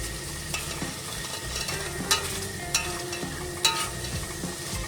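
A spoon stirs and mashes spice masala frying in a pan for a chicken gizzard and spinach sabzi, giving a steady sizzle broken by a few sharp scraping clacks against the pan, close and without voices.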